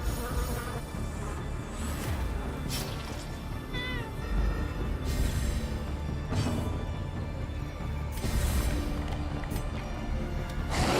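A cat meows in Darkest Dungeon: The Crimson Color of Madness, a few calls rising over a dense, continuous bed of game music and ambience.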